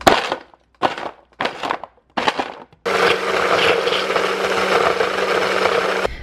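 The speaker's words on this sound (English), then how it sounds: "A little bit of water to get the blender going." Blender grinding frozen strawberries and mixed berries with a splash of water, a loud sustained whir lasting several seconds, preceded by a few short separate pulses as the blades start up.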